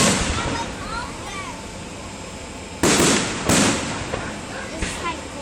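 Fireworks burst outdoors during an electrical storm with heat lightning, sharp loud booms at about three and a half seconds, then a fainter pop near five seconds, over steady background hiss and faint crackle.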